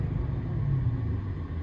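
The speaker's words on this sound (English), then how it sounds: "2000 BMW 540i, standard 6-speed. That's what it sounds like" A 2000 BMW 540i with a 4.4L V8, six-speed manual and muffler-deleted exhaust, heard from inside the cabin as a low, steady engine rumble that holds at an even level for a moment, with no voices.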